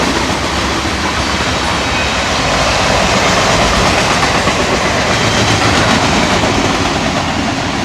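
A freight train rolls steadily past nearby, a continuous loud rumble of railcars with rhythmic clacking of wheels over rail joints throughout.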